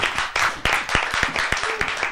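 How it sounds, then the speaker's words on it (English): A comedian on a comedy club stage claps for himself, a run of sharp, fairly rapid hand claps that hold a steady rhythm for a couple of seconds, close and clear. "I did clap for myself for you guys who snickered in the back"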